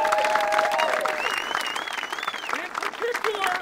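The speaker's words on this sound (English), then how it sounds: "So give them a round of applause," A crowd applauds loudly at a playground-building event, dense steady clapping with scattered cheers and whistles filling the space throughout.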